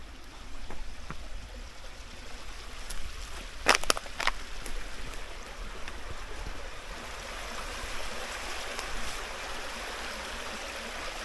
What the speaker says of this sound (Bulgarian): Реката за Марсена.